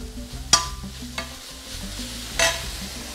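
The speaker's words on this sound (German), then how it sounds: "Ich möchte nur kurz anbraten." Minced meat sears in a very hot pan while being stirred, giving a steady low sizzle broken by a few sharp scraping clicks of the utensil; no one speaks.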